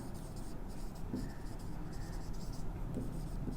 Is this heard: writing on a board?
yes